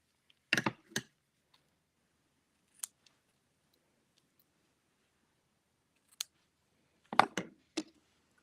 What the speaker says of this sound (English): Now, ribbon scissors.